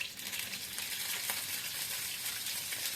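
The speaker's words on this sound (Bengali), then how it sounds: "আমি এবার একে একে করে ডিমগুলোকে কড়ার মধ্যে দিয়ে আমি ডিমগুলোকে একটু হালকা ভেজে নেব।" Eggs frying one after another in hot white oil in a pan, a steady close sizzle and crackle that runs unbroken with no talking.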